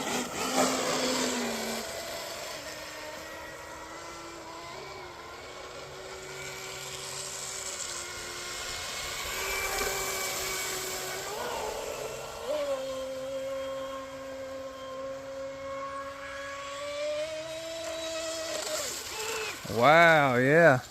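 A Hawkeye RC outrigger boat running on its maiden run on a partly frozen pond, its small electric motor whining at shifting pitch, rising and falling with throttle changes and ending in rapid warbling revs.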